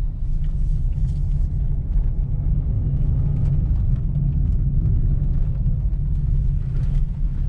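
A car pulls onto a road for a U-turn, giving a steady, close engine and tyre rumble that holds at an even level throughout with no talk.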